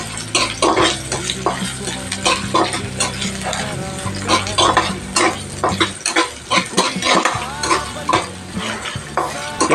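Chopped onion sizzles in fresh oil in a pan with adobo cooking going on, frying crackle running steadily throughout while a spoon stirs and scrapes in sharp clustered clicks against the pan, close and fairly loud.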